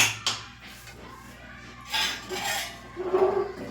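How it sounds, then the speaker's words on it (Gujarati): Metallic clanks and scraping of a heavy pressure cooker lid being worked loose and lifted, close by, with a louder clatter near the end. "અને આપણે કુકર ખોલી લઈશું"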